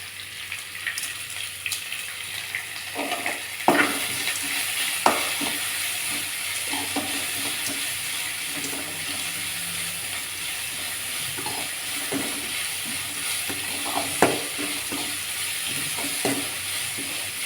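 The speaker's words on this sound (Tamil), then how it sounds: "வெங்காயம் வதங்கட்டும்." Onions sautéing with salt in a pan for a South Indian kadappa side dish, a steady low sizzle broken by intermittent scraping and knocking as the pan is stirred, with a few sharper clanks.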